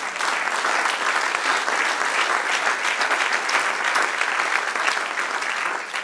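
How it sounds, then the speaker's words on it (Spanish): A church congregation claps loudly and steadily for six seconds, a dense, continuous wash of applause with no speech over it. "dale un aplauso a nuestro Dios"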